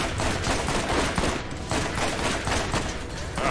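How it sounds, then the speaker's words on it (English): Rapid, dense video-game gunfire in Borderlands: a continuous fusillade of overlapping shots and bursts, loud and close, running unbroken from start to finish. "Whew, who's shooting at me?"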